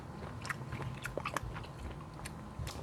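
Close, soft chewing of pasta and meatballs with chopped onion, rosemary and salt, a few brief crunchy bites standing out over a steady mouth noise, no talking.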